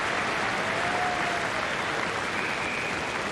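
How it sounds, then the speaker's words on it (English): A cricket crowd at Adelaide in 1997 applauds a six, a continuous, even roar of clapping from a large stadium audience heard from a distance, with a faint voice underneath. "And it's been appreciated, too, by this crowd."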